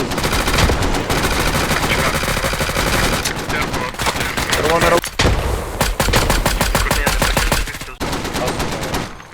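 Loud, dense bursts of rapid gunfire with machine-gun rattles, nearly continuous with brief gaps, from a battle in the game Squad.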